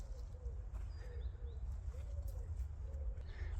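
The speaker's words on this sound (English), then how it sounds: "There's a bird here." A dove or pigeon coos softly several times in a quiet cemetery, the faint calls repeating over a low steady rumble of background noise.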